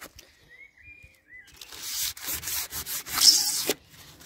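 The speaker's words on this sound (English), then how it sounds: "So I'm going to give it a light sand down." Light hand sanding of a dried undercoat on wrought iron with P180 sandpaper, heard as close, uneven rubbing strokes that grow louder partway through.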